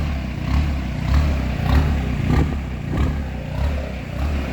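A Peugeot 205 turbo diesel engine idles steadily with a low rumble and slightly uneven, knocking, tractor-like throb from its injection pump, fairly close and continuous throughout.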